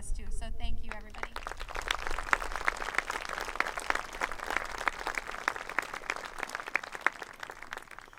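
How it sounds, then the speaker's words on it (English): Audience at a school band concert breaks into clapping for the student musicians after a brief spoken moment at the start, with crisp, steady applause continuing to the end. "they deserve applause too"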